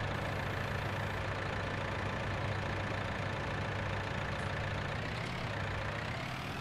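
A tractor in Farming Simulator 19 idles with a steady, unbroken low engine hum and drone, constant in level throughout with no speech.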